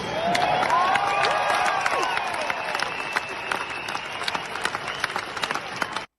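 Applause and cheering from a live comedy show audience, loud at first then thinning into scattered claps before cutting off abruptly.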